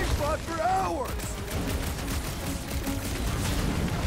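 Sustained gunfire at a big robot boss in the video game Guardians of the Galaxy, a dense, continuous barrage with game effects, opening with a brief voice before the shooting fills the rest.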